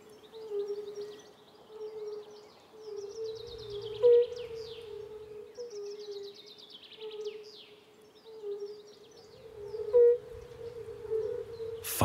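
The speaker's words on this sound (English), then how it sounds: "Fire-bellied toads." Fire-bellied toads calling over still water in Slovakia, a steady series of soft, mellow tonal notes repeating in a regular rhythm, with faint bird calls chirping in the background.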